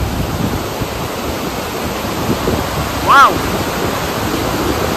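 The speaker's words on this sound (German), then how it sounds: "Und wir haben den nächsten Wasserfall erreicht. Das sind echte Wasserfälle." A tall mountain waterfall in Kyrgyzstan roars as a steady, loud broadband rush filling the whole clip, with one brief exclaiming voice cutting in near the end.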